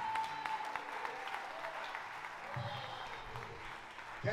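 Congregation applauding during a lively church service, a soft, distant patter of clapping running under low murmuring and room noise.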